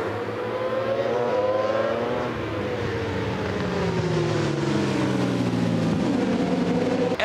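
Superbikes racing at Brands Hatch in the British Superbike Championship, a Ducati Panigale leading: loud, high engines howl close by with rising and falling pitch as the bikes accelerate and pass.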